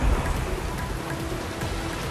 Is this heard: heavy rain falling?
yes